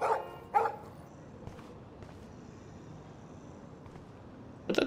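A dog from the Life is Strange video game gives a couple of quick barks at the start, then falls quiet under faint ambience before one more bark right at the end.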